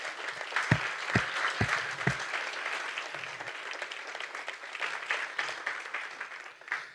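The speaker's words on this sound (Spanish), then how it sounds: "Yo le doy un aplauso a la palabra del Señor" A church congregation breaks into sustained applause during a Spanish-language sermon on unity, steady dense clapping with a few sharper claps standing out near the start, filling the room for several seconds.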